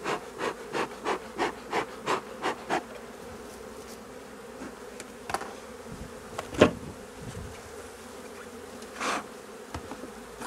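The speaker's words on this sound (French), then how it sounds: "Pour l'instant il y a quelques abeilles dans la hausse," Honeybees around an opened hive with a super in place: a steady close buzzing drone with bees passing near the ears, plus a run of soft rhythmic rubbing or tapping strokes and a few louder knocks.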